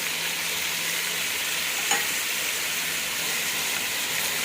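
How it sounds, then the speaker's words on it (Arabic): Whole spices — bay leaf, cardamom, allspice, a cinnamon stick, cloves and black peppercorns — fry in hot oil in a pot, giving a steady close sizzle with one brief scrape of stirring, no voices. "وقلبيهم كويس مع البهارات لغاية ما الريحة تطلع معاكي"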